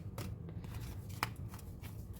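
A Tarot of the Abyss card deck is shuffled quietly, with soft papery riffles and a few light taps against a low background hum.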